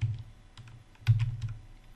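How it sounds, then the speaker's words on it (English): Computer keyboard keys pressed, repeating the Ctrl+Z shortcut during a Security+ lab using hping: a few separate soft clicks spread over two seconds, close and fairly quiet, with no talking. "every time we press control Z"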